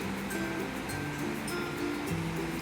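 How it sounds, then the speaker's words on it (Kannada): A mixer grinder blends ingredients into a paste for wheat flour Mangalore buns, giving a steady, loud motor whir with a grinding rumble that runs unbroken throughout with no pauses and no talk. "ನಾನಿಲ್ಲಿ ಚೆನ್ನಾಗಿ ಮಿಕ್ಸ್ ಆಗಲಿ ಅಂತ ಗ್ರೈಂಡ್ ಮಾಡ್ಕೊಳ್ತಾ ಇದ್ದೇನೆ"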